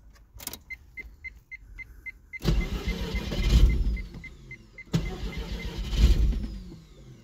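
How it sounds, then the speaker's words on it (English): A Mazda FC rotary engine fresh from an intake manifold install cranks with ticking, catches, and runs roughly in two loud bursts, each fading, after an opening stretch of clicks and a faint beeping. "See if it stays running with the throttle actually connected."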